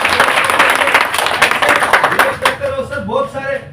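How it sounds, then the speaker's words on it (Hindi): Loud audience applause erupts at a gathering, dense close clapping that fades within a few seconds as a voice starts talking over it. "जोरदार तालियां मैं चाहता हूँ।"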